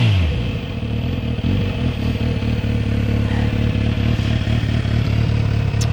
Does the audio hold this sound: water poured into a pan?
no